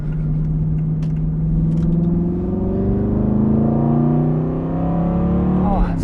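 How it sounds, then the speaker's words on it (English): An Aston Martin Vantage GT engine revs loud and close while driving, its deep growl rising steadily in pitch through the gears. "Sound is so good. Such a satisfying noise. I'm just going to let the car do some of the talking"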